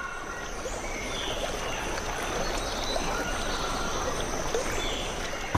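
A jaguar wades through shallow Amazon river water, giving a steady splashing, sloshing wash that continues evenly throughout with no voices.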